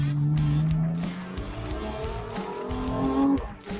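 A BMW M4 fitted with KW V3 coilovers downshifts gear by gear on track, engine revs blipping and dropping loudly up close while the tires squeal and scrub, with someone talking excitedly over it.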